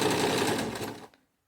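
A sewing machine runs a continuous, fast whir as it stitches a fabric cushion seam with piping, then stops abruptly, leaving silence.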